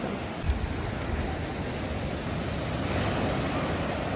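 Rough sea surf from a powerful storm on the Black Sea at Arcadia, Odesa, crashing and roaring continuously, close and loud, with steady wind buffeting the microphone throughout.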